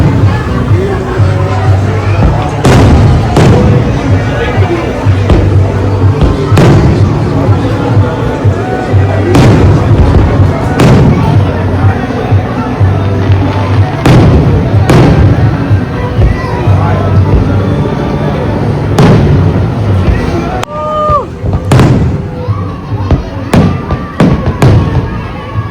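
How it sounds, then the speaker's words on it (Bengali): Fireworks boom and crack over Harborwalk Village in Destin, Florida, in loud, irregular bursts that echo across the night, with a crowd and voices talking underneath. "দুজনে বসে ফায়ার ওয়ার্কস দেখছে"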